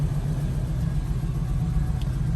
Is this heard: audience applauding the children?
no